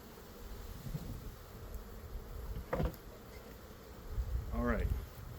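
Honeybees hum around an open hive during an inspection, a low steady buzz close by with an occasional louder bee passing near, mixed with faint outdoor wind and background talk.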